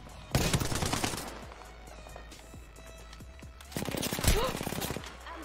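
Rapid gunfire in the shooter game Apex Legends, two loud automatic bursts near the start and near the end with a quieter stretch between, while a player talks over the action.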